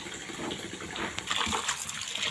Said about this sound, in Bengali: জলটা ভরে গেছে, আমি এখন নিয়ে ভালো করে ধুয়ে নিচ্ছি।